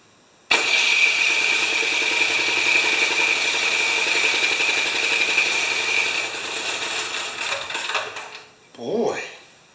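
Craftsman 13.5 ft-lbs torque snowblower, leaking gas, running with the choke open: the engine catches abruptly and roars loud and near for several seconds, then sputters and dies, with a voice at the end.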